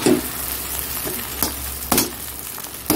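Chow mein noodles tossed into a hot pan for egg chow mein, frying with a steady broadband sizzle while a utensil stirs and scrapes, giving a few sharp clatters against the pan, close and loud with no voices.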